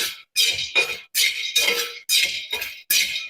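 Chickpeas being stirred in a pan with a splash of salt water, giving about eight rhythmic, close scraping and rattling strokes separated by short pauses, with no talking.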